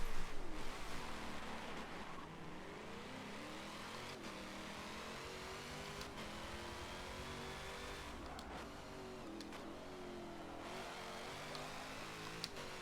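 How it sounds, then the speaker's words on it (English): A Corvette C7.R race car in Forza 7 revs and roars through a spec race, its engine note sweeping up and down in repeated pulls, with other cars droning nearby and brief sharp clicks at gear changes. "Why am I revving?"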